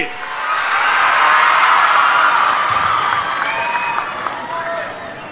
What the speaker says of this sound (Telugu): పడ్డాయంటే గట్టిగా చప్పట్లు కూడా రంపచోడవరం మొత్తం వినపడాలి